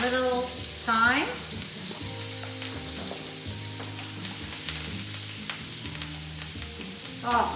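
A ribeye steak sizzling in a pan with thyme added, a steady close fry under occasional spoon or utensil clinks, with a brief burst of louder crackle near the start and end.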